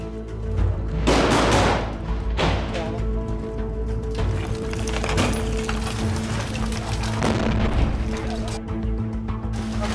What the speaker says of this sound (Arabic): أحد جنود الميليشيات يرمي علينا قنبلة فتنفجر بيننا